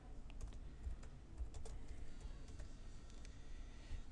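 Keys clatter steadily on a computer keyboard as a New York street address is entered into accounting software, a quiet, continuous run of light clicks with no voices.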